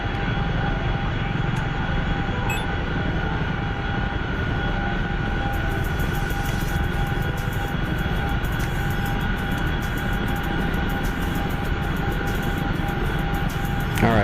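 An MX2 aerobatic aircraft engine drones steadily in flight within a video game, a constant loud propeller hum with no pauses or speech.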